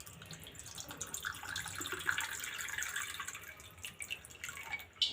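Cold water splashes and trickles steadily into a glass with ice cubes for several seconds, a close, bright pouring sound with no voices.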